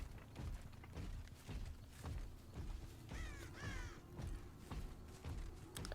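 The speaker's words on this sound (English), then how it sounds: "I know it crows whenever people walk by it, but it crows when you walk by it too" Crows caw repeatedly in a horror video game, harsh calls coming in uneven bursts over a rhythmic thumping of footsteps.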